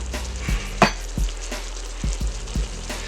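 Garlic sizzles in a soup pot over steady frying hiss, with several distinct clinks and scrapes of a utensil stirring it at a loose, irregular rhythm, close and moderately loud.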